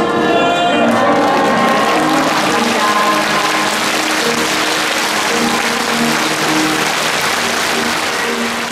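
A hall crowd of Won Buddhist believers cheers and applauds as the head dharma master arrives for the New Year greeting ceremony, a dense sustained roar of clapping and voices with a brief louder swell at the start.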